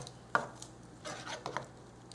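Soft, intermittent scraping and squishing of a spoon folding yogurt and peanut butter into chocolate overnight oats in a container, with a quiet tap near the start and a low background hum.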